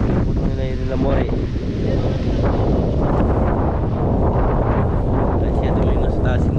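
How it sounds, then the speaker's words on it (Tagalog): Strong typhoon wind roars steadily and loudly across a farm, buffeting the microphone with dense, continuous gusts while a voice speaks briefly near the start. "lumalakas pa rin yung hangin"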